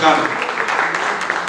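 Brief, dense applause from a conference audience at an education policy event, with a speaker's voice heard over the clapping.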